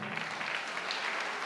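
A congregation at a Christian healing service breaks into applause, a brief, dense patter of many hands clapping at moderate distance for about a second and a half.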